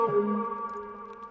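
Short vintage-toned guitar phrase through a wah-wah pedal, with added vinyl crackle and reverb in mono, a few sustained notes swelling and then ringing out softly.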